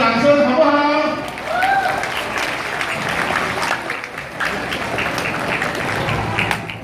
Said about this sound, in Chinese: 但是我们给他掌声好不好？